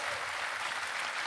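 Audience at a motivational talk in Delhi's Shah Auditorium clapping, a dense, even patter of many hands heard from a distance and fairly quiet, with no voices over it.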